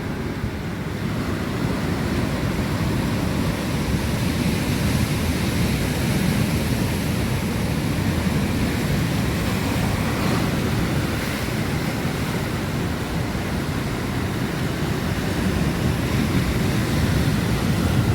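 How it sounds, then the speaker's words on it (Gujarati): A stormy, rough sea crashes onto the shore in a dense, continuous roar of surf, loud and close with gusting wind buffeting the microphone and no voices. "દરિયો ગાંડો છે"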